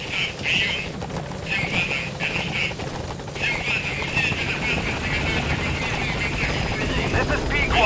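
The Pequod helicopter approaches a landing zone in Metal Gear Solid V: The Phantom Pain, its rotor churning loudly and steadily throughout, with radio-style voices and faint game effects layered over the drone.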